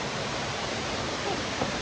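A waterfall roars along a mountain trail during rain and a thunderstorm, a close, loud, unbroken wash of rushing water that fills everything, with no clear talking.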